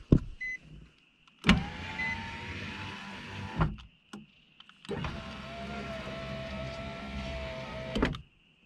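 Power window motor in a Nissan 350Z, just installed, whirring in two long close runs of about two and three seconds each, separated by short pauses with faint clicks, loud and steady with no talk.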